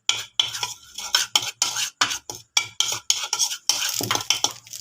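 Banana chips being tossed and stirred with chili powder and chaat masala in a bowl, a close, rhythmic run of rustling, scraping clatter in quick bursts with no talking.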